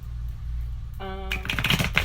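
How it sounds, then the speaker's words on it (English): A deck of tarot cards is shuffled close up: a short tone is followed by a quick, crisp burst of riffling cards. "just keep shuffling a little bit more and we'll see what I have for you guys"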